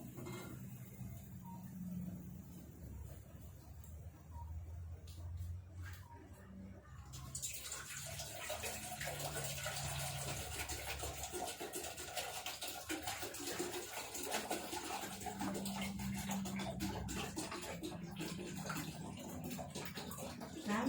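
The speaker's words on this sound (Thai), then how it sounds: "ใส่น้ำให้เต็มหม้อเลย" Water rushes steadily into a cooking pot being filled for a herbal drink of fingerroot, lemongrass and shallots, the pour swelling louder and fuller midway and continuing without a break under faint background voices.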